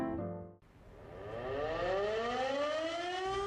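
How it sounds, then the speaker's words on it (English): An air raid siren wails over Kyiv, its rising tones sweeping upward in long, loud overlapping glides that swell and sustain with no speech. "Air raid sirens are ongoing, especially at night."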